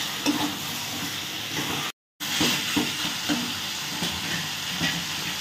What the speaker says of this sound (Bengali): এরপর আমি শুধুই মশলাটাকে ভালো করে কষাতে থাকবো।